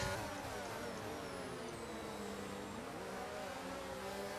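A Formula 1 racing car engine in the F1 22 video game drones loudly and steadily throughout, with a high whine holding a constant pitch and no break.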